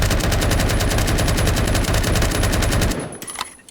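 Scar L rifle in Roblox Phantom Forces fires a long, loud, rapid automatic burst that empties the magazine, with evenly spaced shots over about three seconds before it stops and fades into a short tail.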